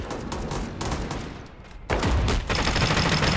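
Rapid bursts of M4A1 rifle fire in a video game, dense and loud, pausing briefly before another sustained volley, up close and without talking.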